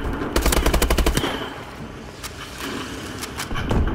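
A sentry gun fires a rapid burst of automatic gunfire in the video game Call of Duty: Advanced Warfare, loud and close. Scattered single shots and game noise follow.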